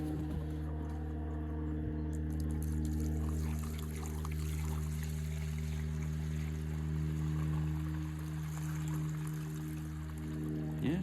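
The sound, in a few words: pouring old fuel out of a John Deere snowblower tank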